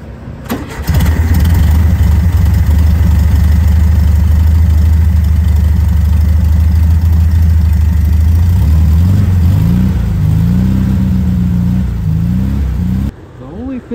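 VW Beetle engine idling steadily after about ten minutes of running, a loud close low rumble that holds even throughout, with a brief shift in tone near the end before it cuts off.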